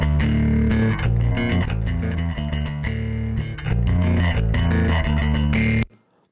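A thick, heavily compressed and distorted bass guitar tone for rock and metal plays a steady riff at an even, loud level, then cuts off abruptly near the end.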